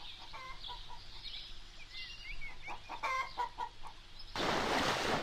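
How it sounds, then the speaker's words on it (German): Chickens cluck in the Wii U game Cube Life, a series of short, close clucks and squawks, then a sudden loud rush of noise near the end. "Hier kommt das Kamikaze-Huhn."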